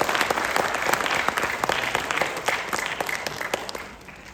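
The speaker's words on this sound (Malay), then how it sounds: "Bagi Liwe satu, tepukan yang kuat." Strong, sustained applause from a seated business-event audience, dense clapping that holds steady for several seconds before tapering off at the end.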